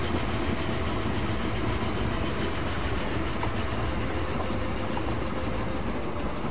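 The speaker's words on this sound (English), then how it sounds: "There's your goods train." A goods train runs in the Train Fever video game with a steady, dense rumble of wheels and clatter. The sound carries at an even loudness throughout, with no talking.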